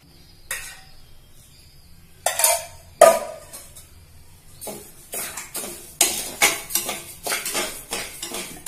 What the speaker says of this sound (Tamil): முன்னாடி இந்த அரிசியை போட்டு நெய் கொஞ்சம் ஊற்றி வறுத்துக்கணும்